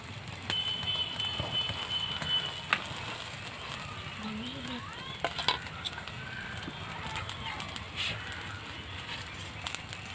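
A slice of bread frying on an egg and vegetable mixture in a pan gives a faint, steady sizzle with soft crackles and occasional light scrapes, low in level throughout.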